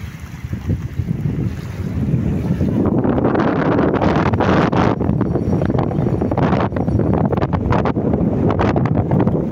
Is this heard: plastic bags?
no